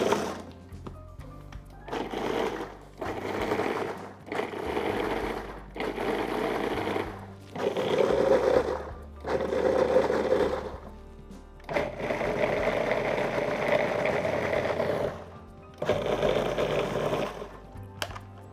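Food processor pulsing nut-free pesto in short repeated bursts, about ten loud whirring pulses separated by brief pauses, with one longer run near the end.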